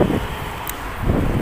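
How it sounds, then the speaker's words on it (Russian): Cold wind blows through a park, buffeting the microphone in low rumbling gusts at the start and end of a short stretch, with a steady broadband hiss between the gusts and no talking. "Ветер дует."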